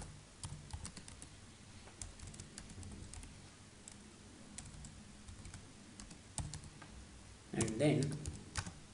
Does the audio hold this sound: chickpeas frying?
no